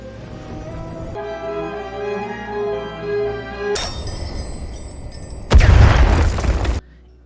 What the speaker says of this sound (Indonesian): ibunya melakukan bom bunuh diri